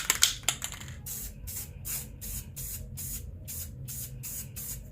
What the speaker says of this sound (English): Let's add some more sprays and just see what we can do.